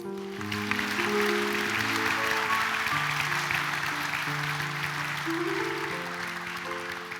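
Applause at a vocational college diploma ceremony in Novo mesto, with steady, moderately distant clapping over a melody of sustained musical tones playing underneath.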